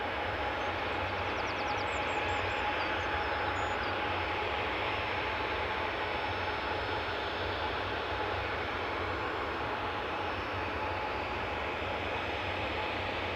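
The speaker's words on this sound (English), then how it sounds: "it's just starting to ramp up. Paphos bound, Ryanair 737." A Ryanair Boeing 737 bound for Paphos spools its jet engines up at Newcastle airport, a steady broad roar holding at a distance and rising little over several seconds, with no talk.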